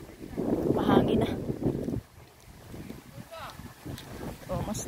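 Strong gusty wind buffets the microphone outdoors in the morning, a loud rumbling roar that drops off briefly and then picks up again in gusts.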